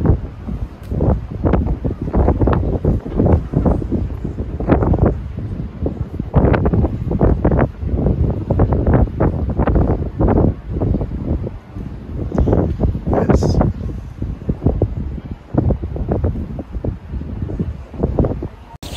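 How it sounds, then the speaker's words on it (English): Strong wind batters the microphone in repeated heavy gusts in Lanzarote, a loud, rumbling roar that surges and dips throughout. "Randy, they do say it is windy in Lanzarote."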